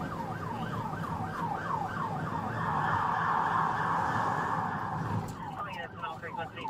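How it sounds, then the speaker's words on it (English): A loud wailing police siren sweeps up and down continuously, swelling and echoing as it passes under an overpass, with road noise beneath and a brief shift near the end. "how loud were lights and sirens under an overpass?"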